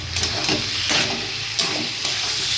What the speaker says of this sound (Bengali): মোচাটা দিয়ে ভালো করে কষিয়ে নিয়েছি।